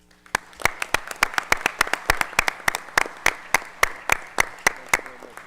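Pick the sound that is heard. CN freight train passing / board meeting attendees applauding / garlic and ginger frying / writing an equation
board meeting attendees applauding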